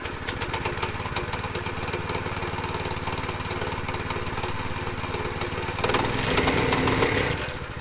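The engine of a new Central Machinery 7hp plate compactor from Harbor Freight runs steadily nearby with a loud, continuous, rattling drone, swelling briefly louder near the end.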